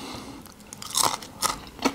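Bites into crunchy puff pastry topped with oats, several sharp crisp crunches spaced a few tenths of a second apart, close and loud with no talk.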